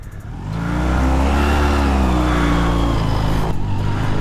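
1999 Honda CB250 motorcycle engine running close by with the choke on, a loud, steady rumble that builds in the first half second and holds with a slight rise in pitch.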